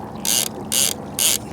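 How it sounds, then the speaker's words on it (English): Fishing reel ratchet on the right rod of a small boat anchored at Browndown Buoy, buzzing in three short bursts as line is pulled on a bite, close and loud over a faint background. "That was a nice little rattle on the right rod then."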